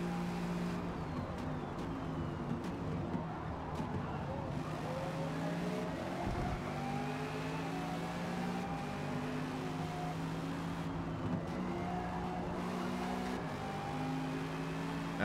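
A 2016 Ligier JS P3 race car engine drones continuously on a track, heard from inside the car as a steady, moderate hum with shifting gear tones and occasional faint clicks, no talk.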